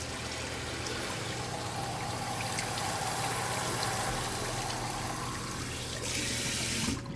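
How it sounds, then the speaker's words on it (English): Tap water streams steadily from a sink faucet into a water bottle, a constant close broadband rush with no pauses, its tone brightening slightly near the end as the bottle fills. "I'm gonna fill it up with my sink water"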